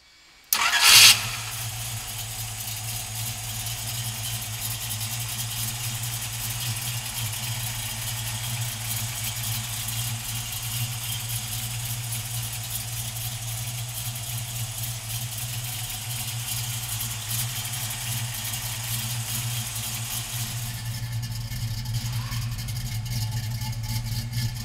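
A Ford Mustang 302 V8 with three two-barrel carburetors cranks briefly and catches, then settles into a loud, steady, lumpy idle that holds near and unbroken, with a slight rise in revs toward the end.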